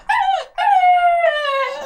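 Hungry small dog whining and then howling, two loud, close, sustained cries with falling pitch, the second one long and wavering, and no one talking.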